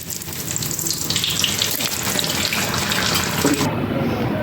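Paneer bread chops fry in hot oil with a steady, dense sizzling hiss that stays close and loud throughout.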